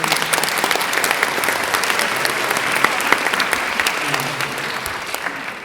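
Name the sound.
applause at a school band concert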